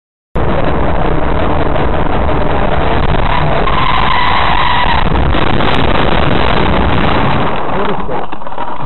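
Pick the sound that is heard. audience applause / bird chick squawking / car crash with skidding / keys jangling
car crash with skidding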